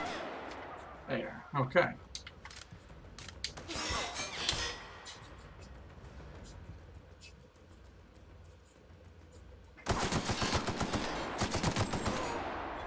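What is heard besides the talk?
gunfire in the video game The Outer Worlds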